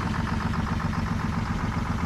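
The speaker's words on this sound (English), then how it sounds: "And that's idling perfect." An old diesel engine, recently revived after 20 years of sitting, idles in a steady, close rhythmic clatter, a loud and even chugging that runs the whole brief moment with no voices.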